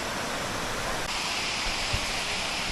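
A waterfall in a natural setting gives off a loud, unbroken rushing roar of falling water that fills the whole clip, steady and close with no voices.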